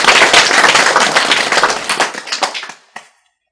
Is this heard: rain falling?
no